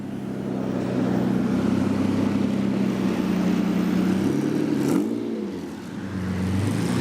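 A crew of supercars, including a Lamborghini Diablo, rolls in at a rally, their engines roaring steadily close by, with one car swelling and sweeping past near the end before the rumble resumes.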